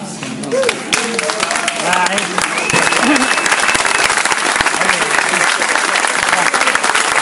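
Audience applause at an outdoor concert at Giardini Lowe, Bordighera, builds into a dense, steady wash of clapping, with a few voices heard briefly at the start.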